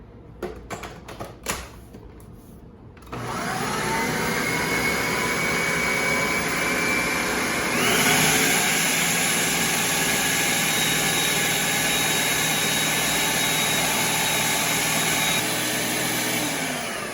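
After a few clicks and clatters, an electric mixer starts up and whirs continuously through a beet patty mixture, a steady close buzzing drone with a slight shift in tone partway through, no talk.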